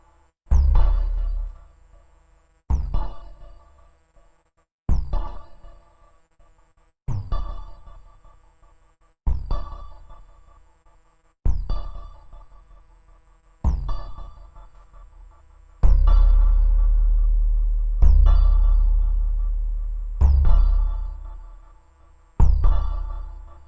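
A deep modular synthesizer impact, made with a Folktek Conduit Eurorack module, repeats about every two seconds, each hit booming then decaying, with a couple of longer sustained swells late on.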